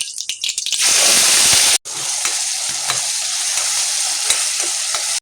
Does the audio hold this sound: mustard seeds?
yes